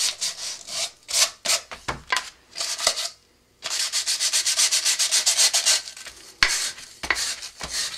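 Close, scratchy back-and-forth rubbing of 120 to 150 grit sandpaper on a rocket body tube, in uneven bursts, with short pauses between strokes and one longer sustained stretch of rapid sanding.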